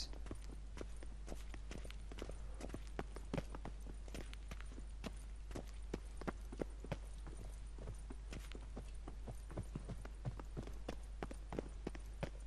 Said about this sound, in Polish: Słyszę jakieś kroki.